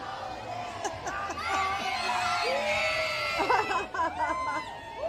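Holiday parade crowd of children and adults cheering, shouting and whooping, stirred up by an energetic Scout pack leader; a loud, sustained outdoor roar of overlapping high-pitched yells.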